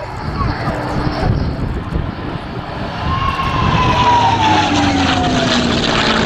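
A 1944 North American WWII fighter built at Inglewood, California, flies past at the RAF Cosford air show, a steady engine drone that swells and shifts in pitch as it passes, loud and continuous.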